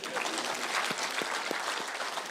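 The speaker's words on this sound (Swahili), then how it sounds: "tumbigie makofi" A large outdoor crowd applauds in steady, dense clapping for Martha Karua at a political gathering, with a few louder claps and crowd murmur under it.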